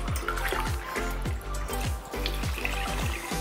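Water runs into a pan of sugar for gulab jamun syrup, a close, steady splashing and gurgling pour with rhythmic pulses and no voices.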